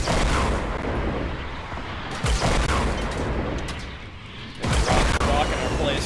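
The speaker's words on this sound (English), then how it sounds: "There come some rockets at us." Rockets and heavy weapons fire boom through a Fortnite Battle Royale match on PC, a dense, continuous barrage of blasts with sharp bursts near 2.3 and 4.7 seconds, loud and close, with players talking over the gunfire.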